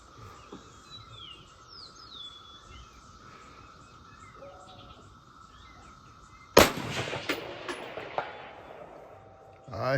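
Outdoors with birds chirping and a steady hum, a single Rock River Arms Coyote rifle shot cracks loudly and close, followed by ringing reverberation and a further impact sound at the end.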